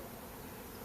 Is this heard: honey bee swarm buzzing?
yes